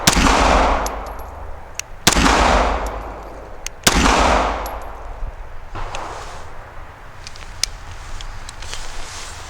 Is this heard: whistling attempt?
no